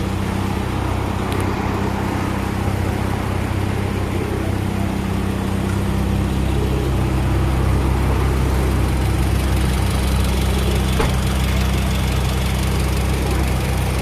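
Mitsubishi Outlander Sport 4x4 engine running steadily, a continuous low rumble with a faint knocking texture, close and fairly loud, with no voices.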